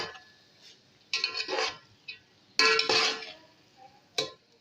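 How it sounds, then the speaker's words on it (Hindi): Rice stirred into fried vegetables in a pan, giving three bursts of scraping, clinking utensil strokes against the pan separated by quieter pauses, with faint sizzling. "अब हम इसमें अपने राइस डालेंगे। अब इनको मिक्स कर देंगे।"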